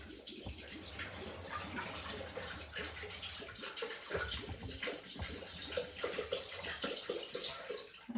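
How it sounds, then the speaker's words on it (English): Chilled water poured into a Thermomix TM6 jug, a steady splashing, gurgling stream close up that runs throughout with slight variations in flow. "We're going to put 500 grams of chilled water in."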